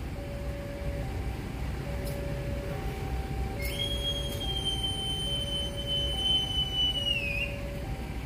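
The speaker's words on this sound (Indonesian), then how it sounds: "Kereta api komuter lain Garut diberangkatkan dari stasiun atau halte Lewigoong." A commuter train departing Lewigoong station rumbles steadily while a two-tone signal alternates in a slow pattern, and a long, high metallic squeal rises and fades midway.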